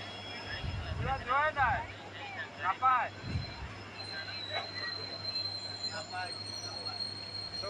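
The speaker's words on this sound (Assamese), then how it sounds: "এইফালে আমাৰ ট্ৰেইনখন আহি পালে" A passenger train pulls into a station platform, its steady rumble and metallic wheel squeal continuing throughout while people nearby talk over it.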